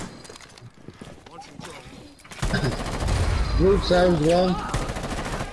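Gunfire in the Rainbow Six shooter game breaks out in rapid bursts under overlapping game voices and player chatter, loud and close with sharp repeated cracks.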